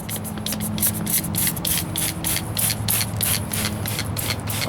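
Rhythmic wet sanding with 220-grit paper and soapy water on the driver's side wheel arch of a 1998 Ford Ranger, close and steady, with repeated rubbing strokes and a low hum behind.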